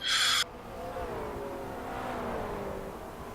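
McLaren GT race car passing on the Road Atlanta circuit in a sim-racing league race, its engine note rising and falling smoothly as it goes by at moderate distance after a brief loud burst.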